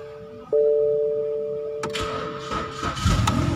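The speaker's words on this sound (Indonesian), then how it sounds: "Kita akan menghidupkan mesinnya." A steady tonal chime rings, then a 2009 BMW E90's engine cranks and catches, settling into a low idling rumble nearby.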